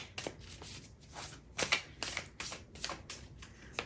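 Tarot cards being shuffled by hand in a quiet room, a run of crisp riffling bursts and soft slaps repeating every half second or so, close and fairly faint.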